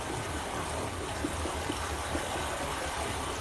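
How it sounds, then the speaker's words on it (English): Water pumped through a pipe in the Myst VR game, a steady broadband rushing and gushing that holds at an even level throughout, with faint low knocks pulsing underneath. "that's clearly pumping water"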